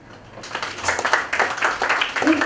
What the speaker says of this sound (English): And Anne Rotich, please clap for her.